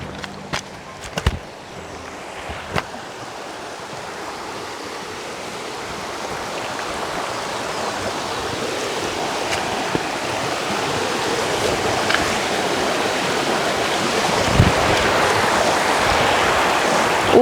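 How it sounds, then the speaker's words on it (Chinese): A river flows steadily in a mountain area of Sichuan as someone prepares to wade across, a continuous close rushing of water that grows slightly louder, with a few small knocks early on and no talk. "现在我们还需要淌过这条河"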